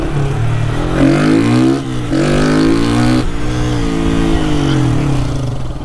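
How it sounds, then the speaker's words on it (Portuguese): A Honda Titan motorcycle engine, just started, idles and revs close by, its rumbling pitch rising and falling in a few surges before settling into a steady run. "acabei de ligar a moto"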